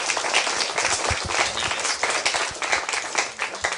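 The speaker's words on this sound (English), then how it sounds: "A round of applause for both sides." Loud, dense applause from a debate audience for both sides of a historicity-of-Jesus debate, many hands clapping continuously and close, with scattered louder claps throughout.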